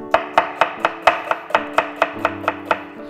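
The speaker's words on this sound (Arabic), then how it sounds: "بفرم ايضا بصل جوانح بهيدا الشكل" Onion chopped with a knife on a board gives about twelve crisp, evenly spaced thuds in a quick steady rhythm, close and loud, with no voices.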